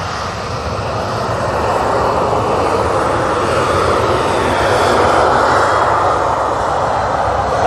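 An airliner roars on takeoff at Manchester Airport, a loud, steady engine rumble building slightly and holding throughout with no voices.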